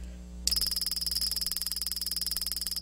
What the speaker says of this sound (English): You can see and hear that spark.